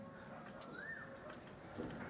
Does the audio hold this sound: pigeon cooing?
yes